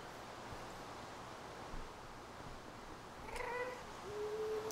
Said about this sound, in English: Can hear him purring.